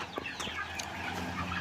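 Chickens in a small backyard farm shed on a home farm, about two and a half months old, give soft, scattered clucks and short calls nearby over a quiet background.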